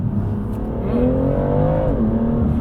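A BMW 2-series engine pulls along a winding road, a steady close drone that rises in pitch as it accelerates and then shifts down, with the cabin otherwise quiet.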